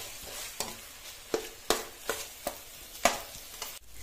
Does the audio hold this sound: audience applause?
no